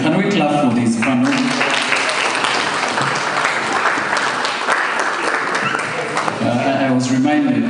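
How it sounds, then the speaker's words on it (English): A conference audience claps for a real estate and infrastructure panel, loud sustained applause filling the room, with a voice speaking over it at the start and again as the clapping fades. "Can we clap for this panel?"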